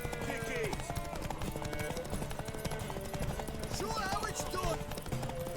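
A horse gallops in The Witcher 3 with a rapid, continuous clip-clop of hooves, loud and close, mixed with game music and effects throughout.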